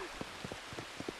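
Rain falls in the Red Dead Redemption 2 game world, a soft, even hiss of steady rainfall with scattered small drop taps, faint and on its own.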